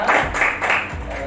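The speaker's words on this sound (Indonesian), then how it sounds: "Oke, tepuk tangan untuk kelompok 3." A classroom group claps for their classmates in group three during an Islamic studies lesson, a short burst of dense, fairly loud applause that keeps going throughout.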